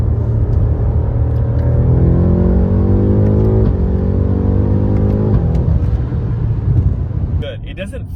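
A 2022 BMW M5 accelerating hard, a loud interior engine drone rising steadily in pitch through the gears, heard from inside the cabin with road rumble underneath.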